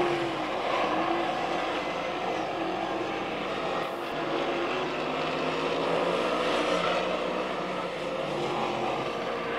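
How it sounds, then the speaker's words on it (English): Dirt modified race cars lap 5 Mile Point Speedway during a qualifying heat, a loud continuous engine roar that holds steady throughout with no talk. "White flag one more time around the speedway in the third of 4 modified heats."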